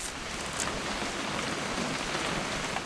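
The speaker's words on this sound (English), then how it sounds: "It's gonna rain the whole weekend," Steady rain falls in the video game What Remains of Edith Finch, a dense, even hiss of drops on surfaces at moderate volume with no voices.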